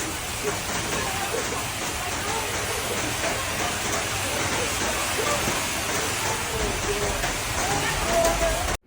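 Heavy rain pours down in a dense, steady hiss, loud and continuous, with no break for the whole stretch.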